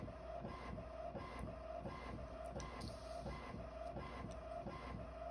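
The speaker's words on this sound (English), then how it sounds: "I'm printing something off my printer and it takes forever" A printer runs with a steady mechanical whir and rhythmic repeating clunks as paper feeds through, continuous and fairly quiet.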